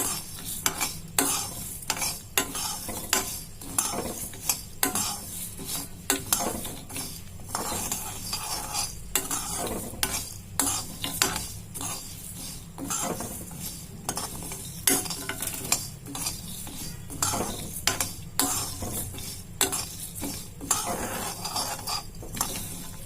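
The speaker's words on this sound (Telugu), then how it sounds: "ఇలా ఐదు నిమిషాలు వేయించుకుందామండి ధనియాలు వేగినాయండి" Cloves, cardamom and coriander seeds are dry-roasted in a pan for a chicken pickle. A spoon scrapes and clinks against the metal in a steady repeated rhythm over a soft, continuous sizzle.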